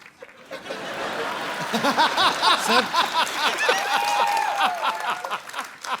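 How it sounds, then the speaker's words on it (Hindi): A studio audience on The Kapil Sharma Show claps for the Mirza cast, a dense spread of hands with chuckles and laughter mixed through it, rising after a short start and staying fairly close and lively to the end. "तो एक बार जोरदार तालियां हो जाएं पूरी मिर्जा की कास्ट के लिए"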